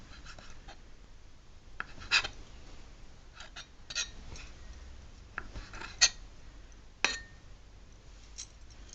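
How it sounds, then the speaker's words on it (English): A knife cuts maida dough into small cubes on a board, giving a few soft, scattered taps and clicks over a quiet background. "then again cut it into small pieces like this"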